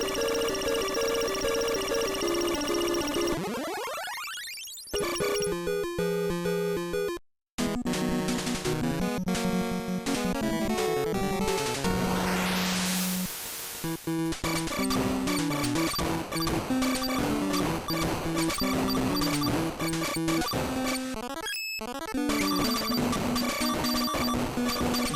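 Rapid continuous gunfire and chiptune effects from the NES game The Guardian Legend, the ship firing steadily at a box in a corridor until it opens, loud and dense over game music with no talking.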